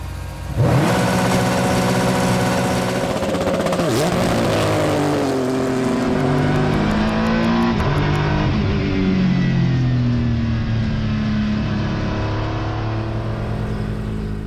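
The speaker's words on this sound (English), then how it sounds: "build up the revs all the way to red line" A loud Acura NSX GT3 race car engine revs hard, its pitch climbing and bouncing against the limiter in sustained, close, high-revving bursts.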